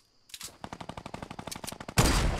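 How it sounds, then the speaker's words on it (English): Rapid run of gunshots in Fortnite, about twenty sharp evenly spaced cracks in under two seconds, ending in a louder burst of noise; no talking. "I missed such an easy snipe shot"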